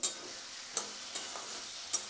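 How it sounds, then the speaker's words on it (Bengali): Quiet sizzling of fried potatoes and soybean chunks in a pan with a few light scrapes of a spoon stirring, no voices. "এখন আবার সুন্দরভাবে কষিয়ে নেব।"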